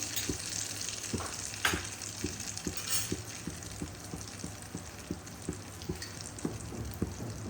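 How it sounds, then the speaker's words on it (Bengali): Banana blossom frying in a pan with a little salt, giving a steady, moderate crackling sizzle with regular soft ticks and stirring noises, no voices. "যতক্ষণ পর্যন্ত সুন্দর একটা গন্ধ না বেরোবে ততক্ষণ পর্যন্ত আমি এটাকে ফ্রাই করে নেব"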